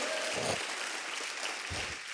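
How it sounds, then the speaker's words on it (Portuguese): A church congregation claps in a brief burst of applause during a sermon, a dense steady patter of many hands that fills the room evenly from start to finish. "Dá uma salva de palmas para Jesus."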